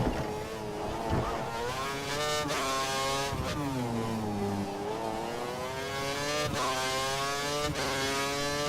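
An F1 car in the F1 2013 racing game at the Abu Dhabi circuit, with a high-pitched engine whining and rising through gears as it exits a first-gear corner, its pitch sweeping up and down with gear changes, loud throughout.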